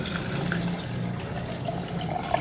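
Water pours into a jug, about two glasses' worth, as part of making a lemon and sugar juice drink; a steady, continuous splashing gush with no talk.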